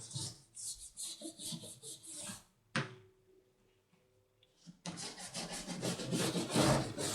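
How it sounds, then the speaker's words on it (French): Tailor's chalk is drawn across fabric to mark a line for shortening a dress: quick, close, scratchy rubbing strokes in bursts, with a pause and a soft knock in between. "je viens tracer ici un trait à la craie, comme cela"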